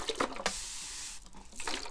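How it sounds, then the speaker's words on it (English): Water sprays onto natural curly hair during a hair care session, a steady close hiss of mist with a couple of brief bursts, soft and continuous. "I'm just gonna wet it and then spray some of that Briogeo in there for you"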